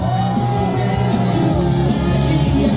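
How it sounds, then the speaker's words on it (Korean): A rally crowd cheers and shouts loudly for a candidate taking the stage at a Korean election campaign event, a dense continuous roar over amplified sound. "큰 박수 부탁드리겠습니다"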